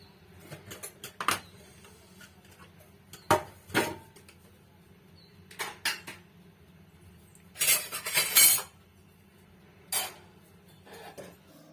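Dishes and utensils washed in a home kitchen: intermittent clinks and clatters of cutlery and pots, a few louder bursts of rattling, close by, with no talking.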